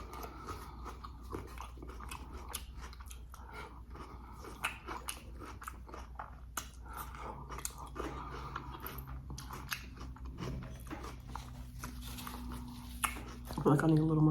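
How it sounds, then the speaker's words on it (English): Tacos with onion, lettuce and cheese being eaten close up, with soft biting and chewing sounds and occasional light crunches repeating steadily throughout, with no talking. "Let me eat these vegetables."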